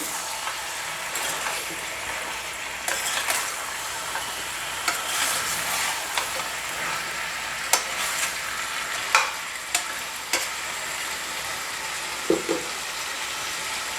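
Chicken is stirred in a hot pan, with a constant frying sizzle and scattered scraping knocks from the spoon over about fourteen seconds.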